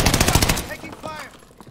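Call of Duty gunfire in the Caldera Clash multiplayer match: a fast, loud burst of rapid machine-gun shots that cuts off after about half a second, followed by softer scattered distant shots and game chatter.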